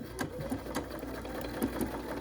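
A BERNINA sewing machine stitches a stuffed bear seam and back tacks, giving a soft, continuous close whir with light rhythmic ticks that stays fairly quiet throughout.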